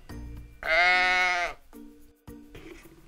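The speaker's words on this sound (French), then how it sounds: "Un mouton." Sheep bleating in one long, loud wavering call close by, followed by quieter rustling and clunking with no talk; the setting is a farm-animal toy scene with a tent.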